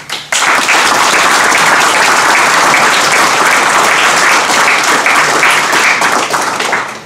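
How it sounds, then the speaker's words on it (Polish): A large hall at a political convention erupts in dense, loud applause for police officers, beginning abruptly and staying steady without pause. "serdecznymi oklaskami"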